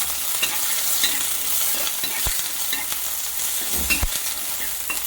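Mustard seeds and curry leaves sizzle in hot coconut oil while being stirred, a steady bright frying hiss with occasional spatula scrapes and taps against the pan.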